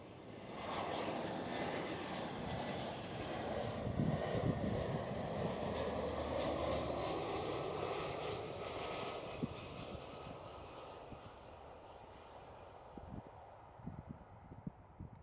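An EasyJet airliner lands at Amsterdam Schiphol, its broad jet roar rumbling steadily from a distance and slowly fading as it passes, with a few faint clicks near the end.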